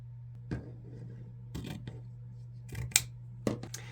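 Scissors cut 2.5-inch wired ribbon in several separate close, crisp snips spaced about a second apart over a low steady hum.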